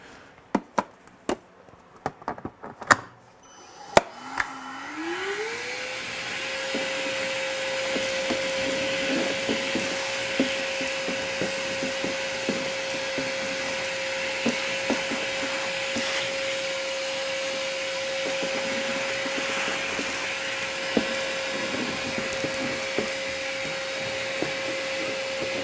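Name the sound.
vacuum cleaner running in workshop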